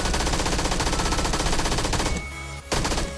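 Rapid automatic gunfire from a weapon in the battle royale game PUBG rattles in a fast, dense stream, pauses briefly, then bursts again at close range.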